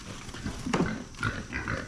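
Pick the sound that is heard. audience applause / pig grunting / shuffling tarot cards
pig grunting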